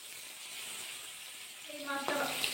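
Pabda fish sizzle in hot mustard oil in a pan, a steady soft hiss of frying with a brief voice near the end.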